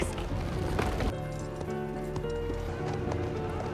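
Horse hooves clip-clop steadily at a village gate in an ancient Roman-era setting, set against a dense music bed with dramatic narration over it.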